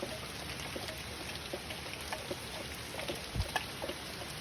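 Rain patters down during a severe night thunderstorm, a soft continuous hiss with scattered drops and a faint low thump near the end, heard alone at low level.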